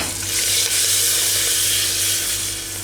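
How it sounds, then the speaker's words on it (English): Curry leaves, ginger and red chilies dropped into a hot pan with spiced oil for sambhar give a steady, loud sizzle and crackle that holds evenly throughout with no voices. "to that I am adding the curry leaves, ginger and red chilies"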